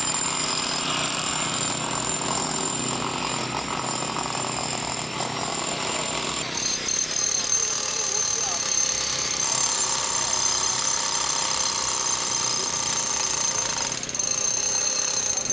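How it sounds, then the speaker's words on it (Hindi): A rescue team's power drill bores into concrete during flood rescue work, a continuous loud grinding and rattling roar that holds steady throughout, close by, with a slight change in pitch partway through. "इसी तरह ये हमारी ड्रिल्स होती हैं, ड्रिल्स हैं।"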